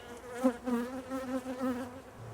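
A steady, wavering buzz of honey bees close by at hives, rising and falling slightly in pitch for a couple of seconds, with no talking.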